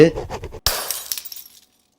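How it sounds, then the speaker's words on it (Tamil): A drinking glass shatters with a single loud crash, its bright fragments skittering and tinkling for about a second before fading to silence, right after a stretch of voiced sound. "இந்த கண்ணாடி கிளாஸ் உடஞ்ச சவுண்டு கேட்குமாங்க."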